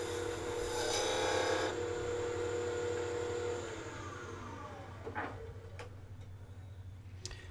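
A lathe tool cuts into a spinning wooden spin top to hollow it, giving a steady scraping rasp over the motor hum that drops in level partway through, followed by a few faint ticks and scrapes.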